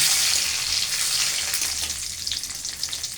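A bay leaf and slit green chillies sizzling in hot oil in a pan, a loud, steady, close hiss that fades slightly, with a few small crackles and no voices.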